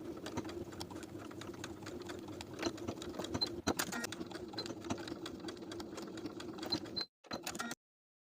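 A sewing machine stitches elastic inside the side seam of women's colorblock pants, running in a fast, steady close-up whir before stopping briefly and giving one short final burst.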